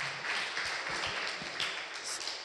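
An audience at an Islamic student discussion forum gives a short round of applause, a soft, even wash of many hands clapping at a distance with little else heard.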